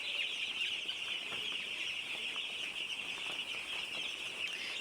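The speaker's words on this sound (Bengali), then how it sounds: "এই যে প্রতিটা পানির পাত্রের মধ্যেই কিন্তু মুরগি আছে" Chickens clucking at water containers on a poultry farm, a steady bright chorus of fowl calls over constant barn hiss, with no voices.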